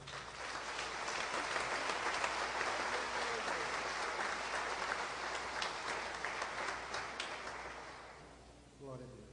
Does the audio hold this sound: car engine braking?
no